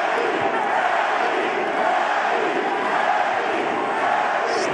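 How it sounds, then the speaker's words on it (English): Boxing arena crowd at a Manny Pacquiao versus Mario Barrios fight, a loud, sustained roar and cheer that fills the whole clip without letup, dense and continuous with no clear breaks. "Just listen to that crowd. They're enjoying this."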